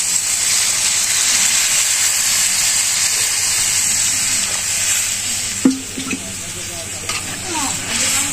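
Chicken curry in a village kitchen sizzles steadily in the pan as water is added, a loud broadband hiss with a few sharp stirring clatters toward the end.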